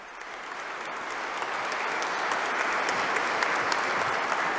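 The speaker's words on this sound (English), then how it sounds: "The diplomats here in the Aula della Benedizione, applauding the discourse of His Holiness Pope Francis" Diplomats applauding Pope Francis's address in the Aula della Benedizione at the Vatican: a sustained, even wash of applause from a large hall audience that swells slightly and holds steady.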